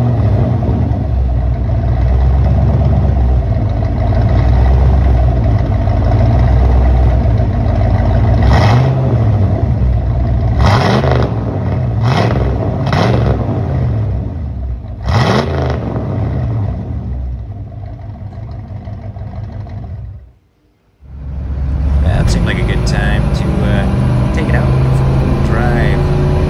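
A 1987 Ford Bronco with a custom twin exhaust revving loudly and rumbling at close range, with a brief drop to near silence before it roars again, plus some wind noise and an occasional voice.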